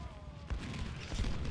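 Civil War battle gunfire in Ultimate General: Civil War, troops firing on enemy artillery near a bridge: a dense, rumbling stream of volleys and booms that swells into heavier bursts midway and keeps rolling to the end.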